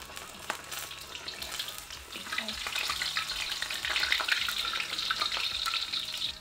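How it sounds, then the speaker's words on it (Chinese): Pork pieces with skin deep-fry in hot oil in a wok, a steady bubbling sizzle that grows louder and denser halfway through, with no talking. "油热以后我们把肉放进来炸"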